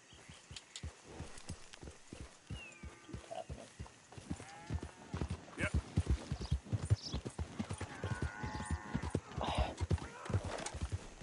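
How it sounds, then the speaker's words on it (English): Horse hooves pound out a fast, rhythmic clip-clop in the video game Red Dead Redemption 2, with several loud whinnies and neighs breaking through as the horse keeps galloping. "Oh my god, okay, why won't this horse stop?"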